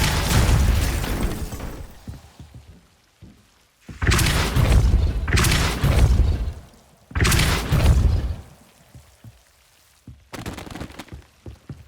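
Depulso spell effects in Hogwarts Legacy, loud rushing magical bursts in several separate waves with quiet gaps and fainter crackles between them, close and without talk.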